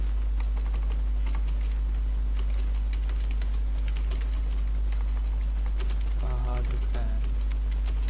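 Rapid, close-up tapping on a computer keyboard, a steady patter of light key clicks continuing throughout over a constant low hum, with a brief faint voice near the end.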